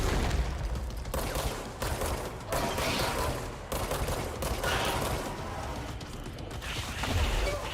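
Dense, continuous gunfire in a bullet-hell style video game, a rapid overlapping fusillade of shots that stays loud and close across the whole stretch with no pauses.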